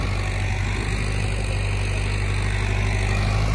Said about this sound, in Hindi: बिना ड्राइवर के ट्रैक्टर चल रहा है भाई